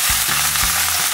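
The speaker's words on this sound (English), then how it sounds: "Now this is up to temperature, in goes the chicken. Remember, it has to be very hot." Chicken sizzles loudly in a very hot wok for Singapore chow mein, a dense, close hiss with a few low thumps as the pieces land and shift.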